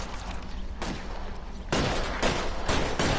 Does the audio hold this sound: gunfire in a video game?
yes